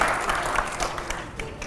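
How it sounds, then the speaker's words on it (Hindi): An audience bursts into loud applause during a rapid-fire question session on stage, dense steady clapping from a crowd throughout, close and full, with a voice faintly underneath. "अगले सवाल के लिए जोरदार तालियां हो"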